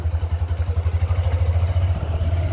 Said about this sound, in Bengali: এই যে দেবু বাইক চালাচ্ছে